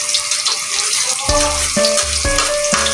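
Chicken and ginger frying in a pan for tinola: a loud, continuous close sizzle with four ringing metallic clanks of a utensil stirring against the pan at a steady, unhurried pace.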